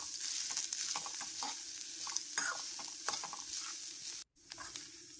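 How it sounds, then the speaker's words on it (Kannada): Curry leaves and grated coconut roasting in a pan for temple-style Mangalore cucumber sambar: a steady scraping stir with a light, continuous sizzle, close by, broken by a brief silent gap near the end. "ಹಾಗೆ ಒಂದು 5-6 ಕರಿಬೇವಿನ ಎಲೆ ಹಾಕ್ಕೊಳ್ತೇನೆ. ಇದನ್ನು ಹುರ್ಕೋಬೇಕು."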